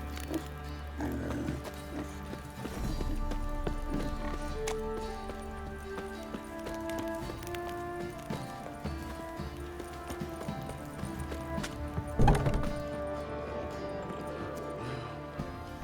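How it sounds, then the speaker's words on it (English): Scattered horse hoofbeats clop irregularly over a layered musical backdrop in the video game The Witcher 3: Wild Hunt, moderately loud, with one louder clattering burst near the end. "Time to water the horses."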